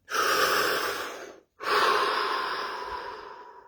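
A slow, deep breath during guided relaxation: a long airy inhale, a brief pause, then a long, gradually fading exhale, close and alone.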